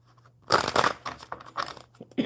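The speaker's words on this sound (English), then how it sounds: "One more good shuffle." Tarot cards are shuffled by hand, giving crisp papery riffling and snapping bursts in several quick clusters, fairly close and loud over a quiet background hum.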